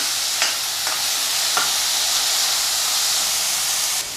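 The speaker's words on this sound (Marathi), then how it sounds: "कांदा थोडा नरम होईपर्यंत व्यवस्थित असा परतून घेते" Onion sautéing in a pan for a wild-vegetable bhaji, a continuous close, loud sizzle with a few faint scrapes of stirring and no speech.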